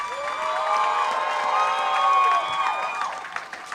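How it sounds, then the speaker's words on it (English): Comedy show audience cheering and applauding, sustained shrill whoops and screams over a bed of clapping, loud and fairly steady before easing off near the end. "Give it up for Teddy mom."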